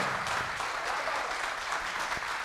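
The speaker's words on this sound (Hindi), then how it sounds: "एक बार जोरदार तालियां हो जाए पंकज पंडित जी के लिए।" An audience at a hasya kavita (comic poetry) event at Lovely Professional University bursts into dense, steady applause, a continuous wash of clapping heard close and loud throughout.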